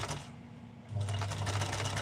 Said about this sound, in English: sewing right around on the edge